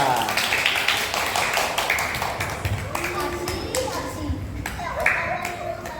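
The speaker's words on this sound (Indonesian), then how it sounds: "tepuk tangan untuk kelompok 4" Second-grade schoolchildren in a Surabaya elementary classroom clap together for group 4, a loud, quick, uneven patter of many hands lasting several seconds, with children's voices mixed in.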